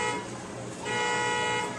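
A steady car horn or car alarm blares continuously from outside, loud and droning, with no talking.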